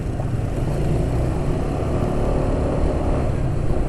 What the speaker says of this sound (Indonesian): Mulai dari pertama nyala suara mesin terasa agak kasar ya.